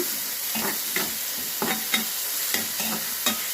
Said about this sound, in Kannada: ಟೊಮೆಟೊನ ಸ್ವಲ್ಪ ನಾವು ಹುರಿಯೋಣ.